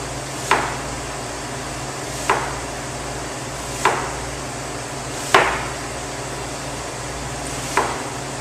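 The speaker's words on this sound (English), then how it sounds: "we're going to hold our onion and slice vertically through the onion to create 1/8 inch sections" A kitchen knife slices vertically, straight up and down, through an onion in 1/8 inch sections: five crisp, evenly spaced cuts about a second and a half apart, each with a short sharp tap, heard alone with no talking.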